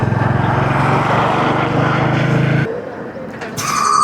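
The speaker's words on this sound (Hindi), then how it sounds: "अभी रेस दे के शुरू तो हो गई है" A Royal Enfield Hunter 350 motorcycle engine revs hard in a loud, rapid pulsing drone, then abruptly drops to a quieter idle before picking up again near the end.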